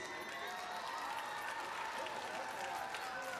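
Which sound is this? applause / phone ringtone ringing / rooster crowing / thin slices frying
applause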